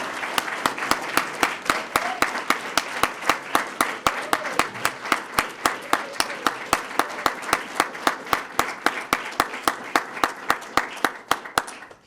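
Applause fills the room at a police swearing-in ceremony in Sarasota, with one strong rhythmic clap standing out above the crowd's steady clapping for about twelve seconds before tapering off.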